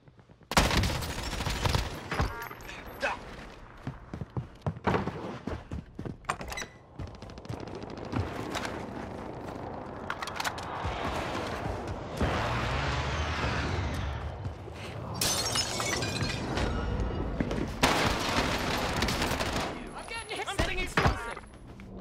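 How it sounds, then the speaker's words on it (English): Burst-fire gunshots from a weapon in the online shooter Warzone, with rapid clustered volleys repeating over the whole stretch amid other loud battle gunfire, while a player talks over the action. "what is this burst gun? This thing's awesome."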